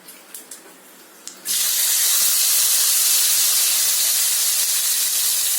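A hot tempering for soya chunk curry hits the pot with a sudden loud sizzle after a few small clinks, then a steady, intense hiss continues close by without fading.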